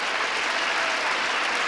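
A studio audience at a 1973 music variety show applauds, a dense, steady wash of clapping hands that fills the whole moment without any voices.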